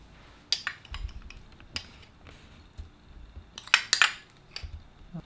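A spoon scrapes minced shallots into a bowl of champagne vinegar while a warm beet salad is prepared, giving a close series of irregular metallic clinks and short scrapes against the bowl, with a cluster of sharper taps near the end and no talking.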